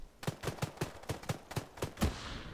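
Rapid, evenly spaced burst of about eight gunshots in a French-language military tactical shooter game, each report sharp and fairly close, ending in a slightly louder final shot with a fading tail.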